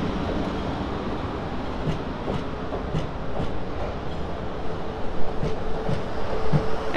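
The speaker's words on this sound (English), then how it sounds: "Another train." A train rumbles through Basingstoke station on the South West Main Line, a steady roar with rhythmic wheel clicks over the rail joints, close and loud without talk.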